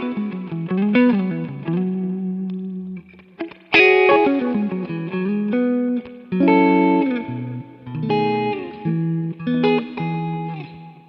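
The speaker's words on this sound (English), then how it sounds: "you got a beautiful transparent drive" Electric guitar through a Kemper Drive set as a transparent overdrive into a very clean amp, played as a series of lightly driven chords and riffs with ringing sustain and short pauses, alone and close.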